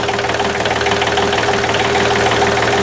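A small pump engine idling close by, a loud, steady, even drone with a continuous low hum and no pauses.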